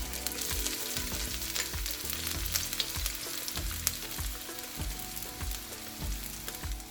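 Garlic, ginger and green onions frying in vegetable oil in a wok over medium heat, a steady close sizzle with rhythmic scraping stir strokes repeating about once a second.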